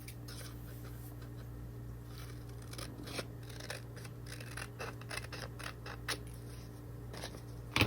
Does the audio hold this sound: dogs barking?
no